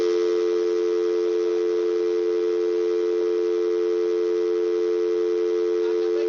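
A telephone dial tone hums after a caller's line drops during a radio show, one steady unbroken electronic tone running the whole time at even loudness with nothing else heard.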